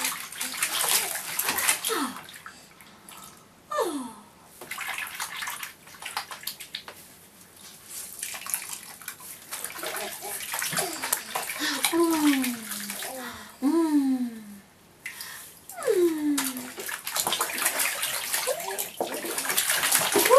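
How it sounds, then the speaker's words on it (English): A baby boy splashes water in a bathtub, the near, bright slaps and sloshes coming in repeated bursts, while the baby babbles and squeals at intervals and a voice is faintly present. "He loves to splash."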